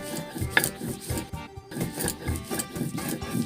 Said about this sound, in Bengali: তাই এইভাবে জল ছাড়াই শুকনো শুকনোই বেটে নিচ্ছি